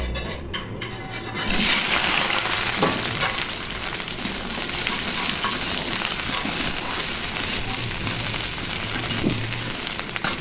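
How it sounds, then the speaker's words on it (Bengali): Okra sizzles loudly in hot oil for an aloo bhindi dish. After a quiet start, a steady, close frying hiss begins and keeps crackling without a break. "তেল গরম হয়ে গেছে, এখন ভেন্ডিগুলি ভেজে নিব।"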